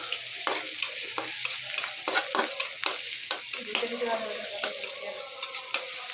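Onions tinted with a little turmeric fry in oil for home-made biryani, a steady close sizzle broken by regular scraping strokes of a spatula stirring in the pan.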